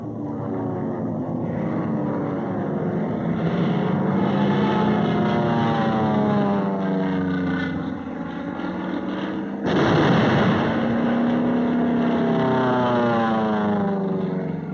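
Carrier aircraft circle over the target at Iwo Jima in wartime, a loud, continuous propeller engine drone that rises and falls as planes pass, with a sharp surge of louder engine noise partway through and no talk.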